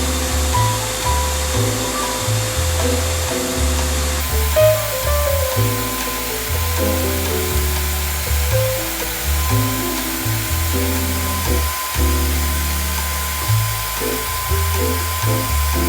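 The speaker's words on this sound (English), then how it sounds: "I'm using my shop vac, which also has a fine dust particulate bag inside" A shop vacuum fitted with a fine dust particulate bag runs during kiln maintenance, a loud, steady whooshing roar that persists throughout beneath background music.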